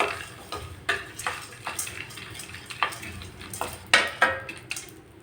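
Pumpkin and cucumber seeds dry-roasting in a pan over a medium flame, stirred with a utensil in a series of rhythmic scraping strokes and light rattles, close and moderately loud with no talking.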